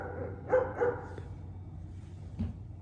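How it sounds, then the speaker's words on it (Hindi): A dog barks a few times, with two quick barks close together and then one more after a pause, at moderate loudness with no talking. "ये कुत्ता पिछले 1 घंटे से भौंक रहा है"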